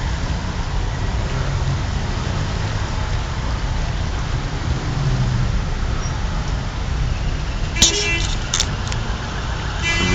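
Steady rain falling on a city street in Tehran while cars crawl past on uphill Vali-e-Asr, a constant wash of rain and traffic hiss with a brief sharp clatter near the end.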